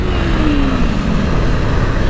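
A KTM 250 Duke motorcycle speeding past other bikes, its loud engine note sliding downward in pitch as it passes close by, over continuous wind and traffic roar.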